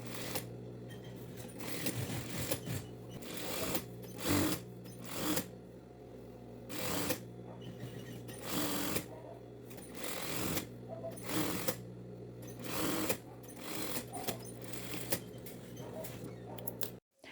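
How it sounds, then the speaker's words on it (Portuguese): A straight-stitch sewing machine runs in repeated bursts, stitching the seams of women's dress trousers, with short pauses between runs; quiet and close. "faça uma costura na máquina reta, com a largura de meio pezinho de máquina"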